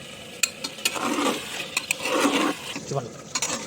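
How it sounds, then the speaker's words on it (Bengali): Mutton with spices is stir-fried for bhuna in a pot, a spoon scraping and stirring with soft sizzling and occasional metallic clinks against the pot, close by and moderately loud. "এখন কষতে হবে ততক্ষণ না হাড় থেকে গোশ খোলে, ততক্ষণ কষতেই যেতে হবে।"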